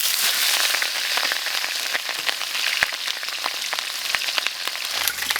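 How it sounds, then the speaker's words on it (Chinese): Pork rib bones pan-frying in hot oil in a home kitchen, a steady close sizzle with frequent sharp pops and crackles throughout. "锅里加点油，好，这骨头我们下锅煎。"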